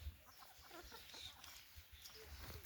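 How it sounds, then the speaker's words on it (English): Chickens cluck and a rooster calls faintly from a nearby farm, distant fowl sounds scattered over soft outdoor ambience on a free-range chicken and duck farm. "You can hear a rooster from our other farm."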